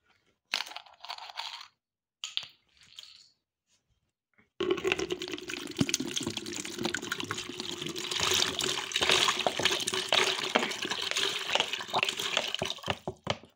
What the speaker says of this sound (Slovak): Teraz naplníme vodu kýblik s demineralizovanou vodou. Otvoríme si vodu.